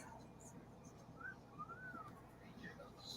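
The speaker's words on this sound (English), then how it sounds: "Who did the wolf whistle in the background?" A faint rising-and-falling whistle cuts through quiet background chatter, a quick wolf-whistle shape, distant and brief.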